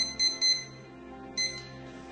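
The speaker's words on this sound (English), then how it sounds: "Now that buzz has gone off" A timer buzzer goes off in a medical testing room, sounding three short, bright electronic beeps in an uneven pattern over a quiet room hum, with no talk.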